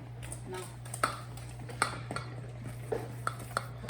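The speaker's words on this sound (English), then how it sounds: "So you mix the dough until you have 0 lumps and smooth texture." Chocolate chip cookie dough being mixed in a bowl, a quiet sequence of sparse clinks and taps of a utensil against the bowl over a low steady hum, no talk.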